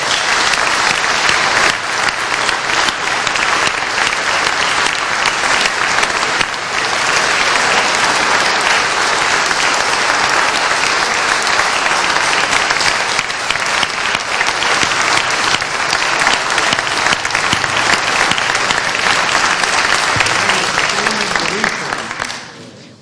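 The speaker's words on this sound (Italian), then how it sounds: "Una standing ovation" A standing ovation for Romano Prodi, former Italian prime minister, at a public event: dense, sustained applause from a large audience, loud and steady for about twenty seconds before tapering off at the end.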